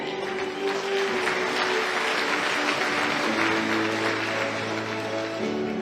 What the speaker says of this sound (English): give a round of applause to one of our very own favorite son of Taiwan, Mr. Mark Chen